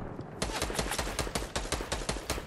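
Rapid video game gunfire shoots down a player-built structure, with sharp shots in a fast, slightly uneven rhythm, loud and close throughout.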